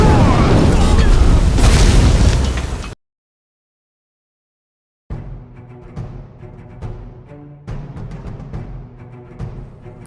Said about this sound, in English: use the Incendiary Flow spell and then follow up with your Fire Breath shout